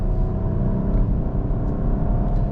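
A Peugeot 408 with its 1.2 PureTech 130 HP petrol engine driving in normal mode, heard from inside as a steady low rumble and whir with a faintly rising drone, close and continuous.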